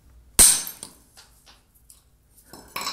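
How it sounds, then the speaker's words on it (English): A hammer whacks a bolt held against an old speaker's magnet back plate to break the bond, giving one sharp, loud metallic strike that rings briefly, then quieter tapping and handling noises. "you're going to take a hammer and give it a whack"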